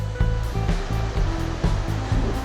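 The El Cinto river rushes along a hiking trail between Lloa and Mindo, a dense, loud roar of churning water heard close by with low pulsing surges, steady for the whole stretch and without voices.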